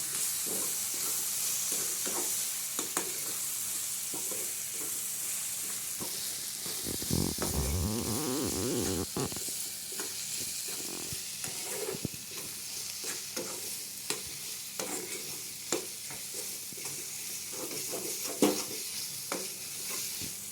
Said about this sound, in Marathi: चांगले परतून घेणार आपण